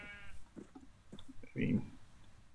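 Sheep bleat once in a short, wavering call close by, partly over a person talking, with a second nasal bleat rising clearly near the middle.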